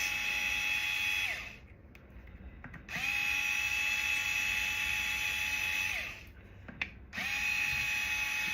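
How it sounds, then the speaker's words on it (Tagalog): Power tool whirring steadily in three long runs with brief pauses between, taking out six M5 bolts from a BLDC motor casing; close, loud and with no talk. "So what we will do is use tools to remove the bolts."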